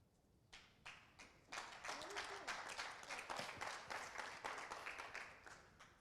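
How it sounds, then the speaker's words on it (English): An audience breaks into applause for a speaker discussing Uganda, starting from a few scattered claps and quickly swelling into sustained, dense clapping from a crowd of listeners. "I have to clap for the guy who started the clapping"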